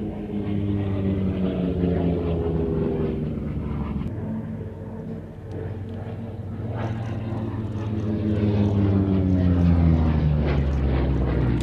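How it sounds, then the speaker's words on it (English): A Grumman F8F Bearcat, a WWII US propeller fighter, climbs at an air festival with a loud, steady propeller drone whose pitch slowly shifts as it pulls away and returns, swelling toward the end. "See the ease at which that aircraft actually climbs."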